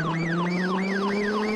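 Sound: police car siren on VAZ-2101 Kopeyka in video game BeamNG.drive

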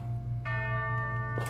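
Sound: bells ringing in a video game

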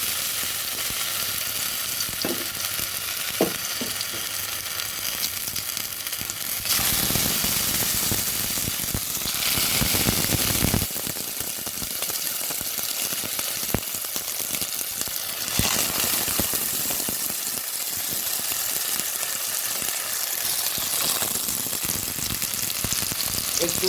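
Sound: tomatoes frying in mustard oil in a wok

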